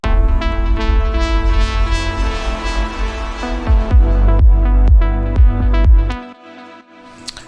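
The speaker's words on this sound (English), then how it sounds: "The preset in Serum is the Lynnic Pluck, a saw wave with a filter and a plucky envelope." Plucked deep house synth lead from the Serum preset Lynnic Pluck, a filtered saw wave with a plucky envelope, playing a run of short bright notes over a thick sustained bass bed that cuts off abruptly near the end.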